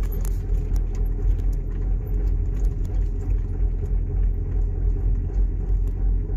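A camper van drives in third gear with a jerky, juddering powertrain, giving a loud, continuous low engine and road rumble heard from inside the cabin, with faint rattles throughout.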